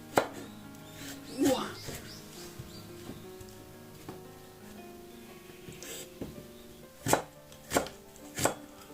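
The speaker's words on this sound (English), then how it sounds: "Thinly sliced gobo." Knife thinly slicing burdock root (gobo) into matchsticks on a board, with a few sharp chopping strikes spread across, a burst near the end, under quiet talk.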